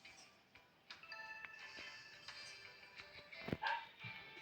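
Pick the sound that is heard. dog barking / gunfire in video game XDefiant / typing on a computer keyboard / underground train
dog barking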